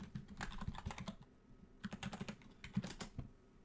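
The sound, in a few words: typing a password on a keyboard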